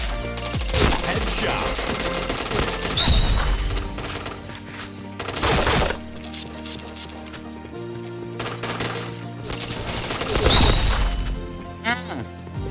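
Rapid bursts of gunfire and sharp impact cracks fill a shooting video game, loud and near, over layered game music and effects, while players talk excitedly throughout.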